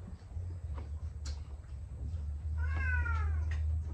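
A cat meows clearly near the end, a rising harmonic call after a few faint earlier mews, heard over a steady low hum at an outdoor lunch of grilled fish and adobo.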